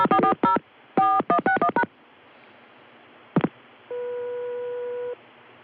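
Touch-tone dialing on a 1981 telephone line reaching Rome, Georgia: quick clusters of DTMF digit beeps in two bursts, a sharp click, then a steady line tone lasting about a second, all clear and close.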